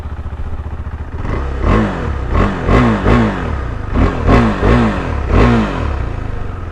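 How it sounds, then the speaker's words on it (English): A 2020 KTM 390 Adventure motorcycle engine with its stock muffler starts and idles, then revs in a series of about eight short, loud throttle blips at a steady, rhythmic pace, close to the microphone. "let's first start the engine so you can hear the actual sound"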